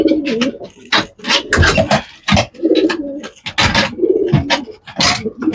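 Imported racing pigeons cooing in a loft, a close, loud run of throaty rolling coos that overlap in uneven bursts.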